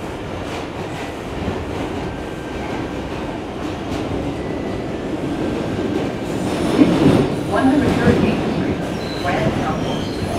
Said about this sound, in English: This is a Woodlawn-bound 4 train.